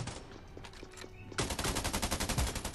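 Gunfire in a mobile battle royale shooter such as Scarfall 2.0 or Indus Battle Royale: a few scattered shots, then a rapid automatic burst of evenly spaced, loud, close rounds to the end.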